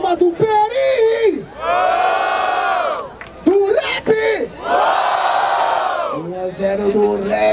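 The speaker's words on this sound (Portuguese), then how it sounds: "Vamos lá! Barulho para a rima do Perim!" A large crowd at a rap battle in Barueri, São Paulo cheers and shouts in two long loud swells, with sharp whoops and yells breaking out between them.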